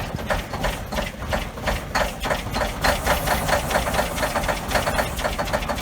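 A Cummins N14 diesel truck engine cold-starting at about 8 degrees Fahrenheit, a loud rough knocking rhythm with rapid regular pulses, running steadily close by without talk.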